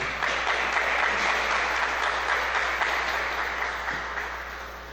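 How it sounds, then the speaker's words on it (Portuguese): A church congregation gives sustained, dense applause that fills the room and slowly fades toward the end, with no voices over it. "é uma linda salva de palmas, Senhor"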